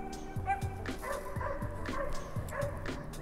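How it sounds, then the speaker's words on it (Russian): Samoyed dogs bark and yip repeatedly at close range, short sharp bursts with whiny tones, while someone talks over them indoors. "Так, кто там гавкает, а?"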